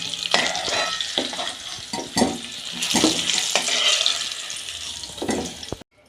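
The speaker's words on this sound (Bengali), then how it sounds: "আলু ভাজা হয়ে গেছে, আমি তুলে নিচ্ছি। এটা চন্দ্রমুখী আলু।" Chandramukhi potatoes sizzle loudly in hot oil with scraping stirs and bursts of crackle, close and continuous, ending abruptly.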